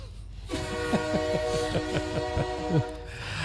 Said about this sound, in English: Why are you always playing the train?